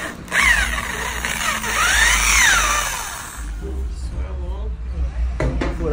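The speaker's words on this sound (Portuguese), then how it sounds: "tá furando o guidão" A power drill bores a hole through the handlebar of a Honda Hornet motorcycle during accessory fitting, its whine rising and falling in sweeps, loud and close, with brief pauses toward the end.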